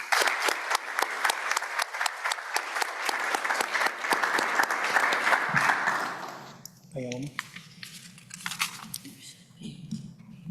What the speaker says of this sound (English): just a round of applause for James, please